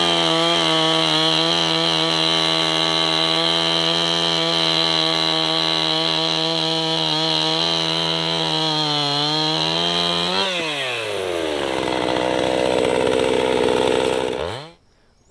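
A chainsaw limbing a felled tree whose trunk is raised off the ground runs loud and close at a steady high whine. It dips in pitch as it bites into a limb, then revs and cuts off abruptly.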